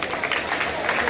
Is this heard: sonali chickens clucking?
no